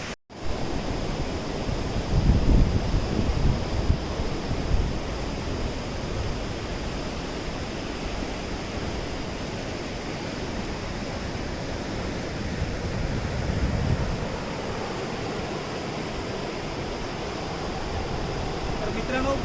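Sea waves at Kondura beach near Vengurla, where a river flows into the sea: a continuous broad wash of surf with gentle swells, heard under a person talking.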